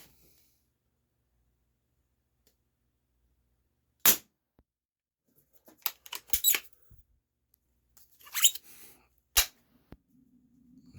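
A Beeman P17 pellet pistol gives two sharp, close cracks several seconds apart, with clicks and mechanical shuffling of loading between them in an otherwise quiet room.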